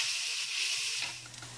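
Paella rice toasting with bell peppers in a hot pan, giving a close, steady sizzling hiss that fades slightly toward the end of the brief moment.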